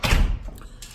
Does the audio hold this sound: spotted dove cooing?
no